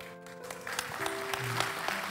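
A church congregation claps in a dense, steady patter of many hands, fairly distant and soft, with a low hum and faint tones underneath.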